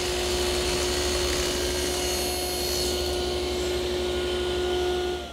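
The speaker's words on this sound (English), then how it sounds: "I'm going to run the profile on each edge and then rip a couple pieces of molding." Router table cutting a profile along the edges of half-inch-thick wood stock for molding, a steady high whine with a constant motor tone throughout that fades out at the end.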